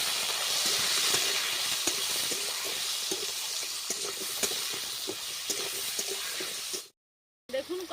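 Vegetables with potato and stems frying in a pan with salt and turmeric, giving a steady, loud sizzle and hiss with faint stirring scrapes throughout, then a brief silence near the end before the sizzle resumes.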